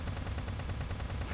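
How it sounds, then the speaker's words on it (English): A plasma gun fires rapidly in a video game, a dense, steady stream of pulsing shots with no pause, loud and close throughout. "That plasma gun's hitting stuff."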